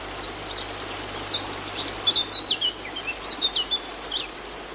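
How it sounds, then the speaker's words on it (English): A small bird sings up in a tree, its clear chirps and whistled notes rising into a rhythmic run of repeated phrases over a faint steady background hiss, with no talking. "Little bird, up in the tree."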